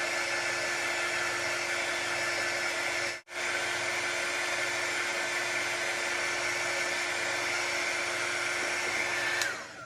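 A hair dryer blows steadily, loud and close, drying an etched craft piece, with one brief dropout partway through and a constant hum until it switches off at the end.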